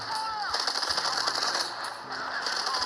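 Rapid, continuous machine-gun fire from a tank's coaxial gun in War Thunder Mobile, a dense rattling burst that runs the whole time, loud and close, with a few whistling in-game effects on top.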